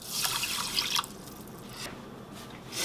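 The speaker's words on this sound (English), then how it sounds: "Add 2/3 cup of water." Water is poured from a measuring cup onto a single serving of dry rice for cooking, a brief splashing trickle lasting about a second before fading to quiet room tone.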